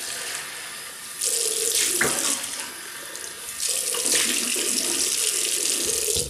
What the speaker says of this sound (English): So I'll just rinse off.